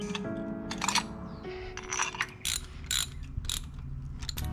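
Shorter bolts being run in with a ratchet during a junkyard LS engine swap into a 2007-2014 GMT900 Tahoe, quick clicking pawl bursts and metallic clanks, close and fairly quiet, with no talk.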